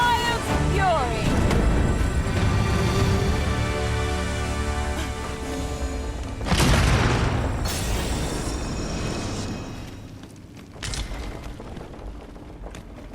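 A fire spell bursts in Dragon's Dogma II, a loud booming blast under dense game music and voices, with a second surge about two-thirds of the way through before fading.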